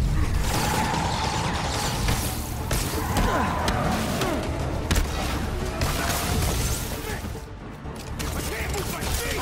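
A construction-site cement mixer in the Spider-Man game whirring and grinding steadily with mechanical clanks and creaks, under ongoing combat noise and some voices.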